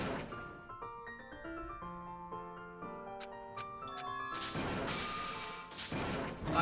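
Pet dogs roughhousing in a nearby room, throwing each other around, with a few loud crashing thumps and bursts of scuffling rising over steady video game music.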